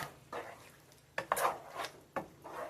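Ground beef and lasagna sauce being stirred and mixed in a bowl, giving a few soft scraping and wet squelching strokes with sharper clinks of a utensil against the bowl, close and quiet with no talking.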